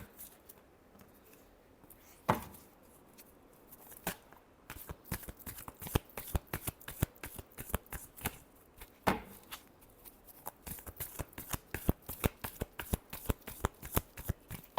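Tarot cards are shuffled over and over by hand, giving crisp, rapid riffling flutters in close, steady bursts, with no talking.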